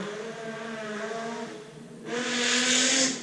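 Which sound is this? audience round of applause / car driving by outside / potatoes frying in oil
car driving by outside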